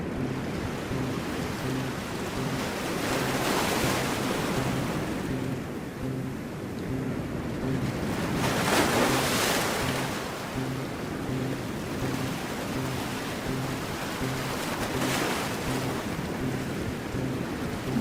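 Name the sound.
ocean waves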